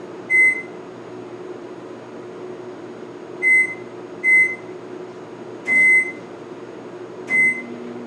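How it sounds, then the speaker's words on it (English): A Danby microwave oven runs with a steady low hum under a faint fan drone, broken by several short, sharp electronic beeps from its keypad. "So I'm going to put them in the microwave"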